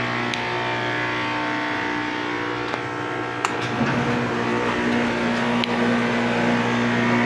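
An electric pump runs steadily at a septic recycled-water filtration setup, a constant motor hum with a whining tone and occasional sharp clicks, close and fairly loud, growing slightly stronger partway through.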